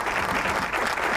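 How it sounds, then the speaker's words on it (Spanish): Strong, steady applause from a television studio audience welcoming a guest onto a talk programme, dense and sustained clapping with no voices over it. "Le damos la bienvenida con un fuerte aplauso que nos caracteriza este programa."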